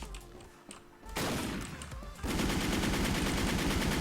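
Gunfire in a sniper-focused shooter video game: a quieter stretch with scattered shots, then a loud sustained burst of rapid automatic fire that intensifies into a dense continuous volley.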